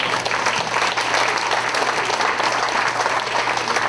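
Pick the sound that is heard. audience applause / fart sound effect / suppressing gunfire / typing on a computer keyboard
audience applause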